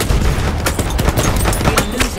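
Gunfire in Battlefield 1 mowing down a player, a loud rapid burst of overlapping shots and cracks with a dense booming rumble lasting a couple of seconds.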